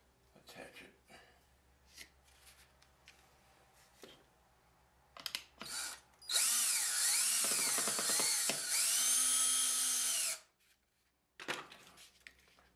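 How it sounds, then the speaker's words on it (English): Screws being driven to attach a piece on a small commission job: scattered close handling clicks and taps, then a loud, steady motor whine lasting about four seconds with shifting pitch, followed by a few more brief clicks. "I'll put this screw back in the hole here and attach it."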